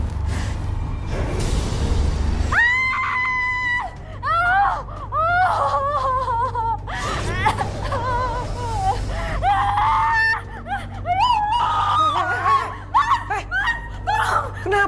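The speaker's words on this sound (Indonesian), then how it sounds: "Kenapa sih teriak-teriak?" A woman in a frightened state shrieks and wails in repeated high, strained cries with gasping breaths in between, loud and close, over a low background hum.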